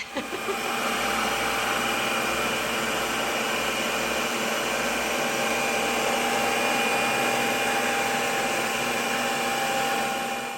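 A Ninja Creami ice cream maker runs at home, processing a pint with fresh blueberries, giving a continuous loud whirring motor drone with a steady, unbroken tone from start to finish and no talking.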